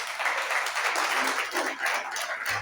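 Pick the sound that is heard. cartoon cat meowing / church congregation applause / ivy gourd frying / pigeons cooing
church congregation applause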